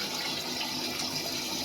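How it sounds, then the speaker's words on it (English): Tap water runs into a bathroom sink during a shave, a steady close gushing hiss that holds evenly for a short moment with no voices. "The sink is running out of water."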